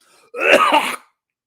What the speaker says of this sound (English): He starts his speech coughing.